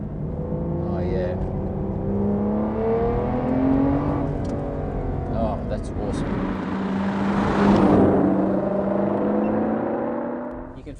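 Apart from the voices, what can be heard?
2008 Aston Martin DBS manual V12 accelerating through a corner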